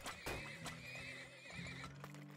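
Horses in the video game Turmoil neigh and whinny loudly, a long shrill call with clip-clop hooves, over steady game background sound.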